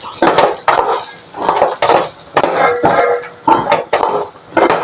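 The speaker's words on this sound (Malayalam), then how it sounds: "ആദ്യം തന്നെ നമുക്ക് പരിപ്പ് വറുക്കാം" Dry washed lentils rattle and scrape in a pan as they are roasted and stirred, in repeated close-up bursts with short pauses between strokes.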